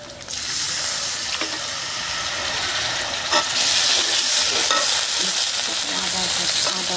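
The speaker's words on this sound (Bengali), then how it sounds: "একটু পানি দিয়ে দিই পরিমাণ মতো" Tilapia curry with taro in a pan, a steady loud sizzle and hiss as water goes in and the contents are stirred, with occasional scraping clinks.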